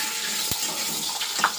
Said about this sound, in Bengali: পনিরটা এইভাবেই ভেজে নেব